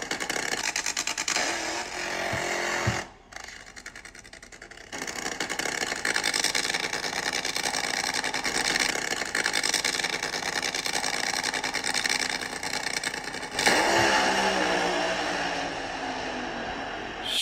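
John Force's drag racing car makes a pass on race night at the Mile High drag strip, a sustained loud engine roar heard from a distance. It drops briefly early on, then surges again, with a sharper change in tone near the end.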